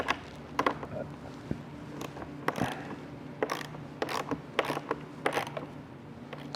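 A socket wrench ratchets as it tightens the windshield bracket bolts on a 2025 Liberty scooter, brief bursts of quick metallic clicking with short pauses between strokes, close and moderately loud.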